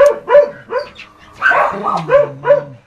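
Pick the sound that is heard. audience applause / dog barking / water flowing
dog barking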